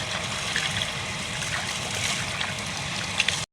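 Rice grains are rubbed by hand and rinsed in water to clean them before cooking an egg pulao, a steady close sloshing and trickling with brief gurgles, cutting off abruptly at the end.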